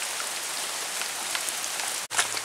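Steady rain patters densely on outdoor surfaces, a close, even hiss of drops with a few brighter splashes and a brief drop-out near the end.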